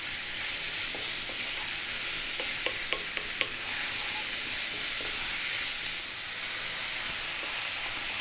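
Ground beef stir-frying on high heat, with a dense, continuous bright sizzle and a few sharp clicks of a utensil scraping and moving the meat around the pan.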